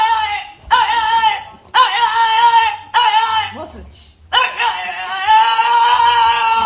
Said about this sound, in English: the dog has an unusual howl. The dog sounds like a person.